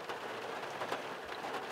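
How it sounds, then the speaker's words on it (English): Steady rain falling on a morning during an Alaska Dall sheep hunt trip, a dense even hiss of drops pattering on surfaces throughout, with no voices. "it's raining pretty good"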